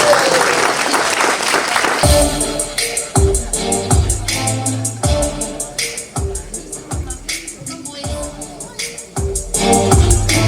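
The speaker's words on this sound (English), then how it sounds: "Ladies and gentlemen, make some noise." Applause fills a room at a 50th wedding anniversary party as the audience claps in a steady, loud wash, with crowd noise and a few voices mixed in.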